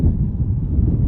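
Strong wind buffets the microphone outdoors near Flagstaff, Arizona on a hot July day, a loud continuous low rumble with gusty fluctuations and no talking.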